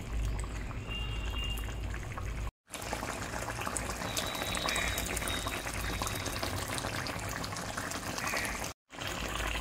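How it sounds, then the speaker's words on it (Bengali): Fish curry simmering in a pot, a steady bubbling and gurgling boil that runs continuously at close range, broken by two brief silent gaps, with no talk. "মাছগুলো দেওয়ার পরে এই ঝোলটাকে আবার মিনিট 4 ফুটতে দিতে হবে।"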